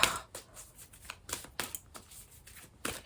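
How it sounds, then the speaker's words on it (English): Playing cards being shuffled by hand, a run of crisp riffling bursts and snaps repeating at an uneven rhythm, close and fairly loud with no talking. "I was literally shuffling those cards the whole time I was talking to you."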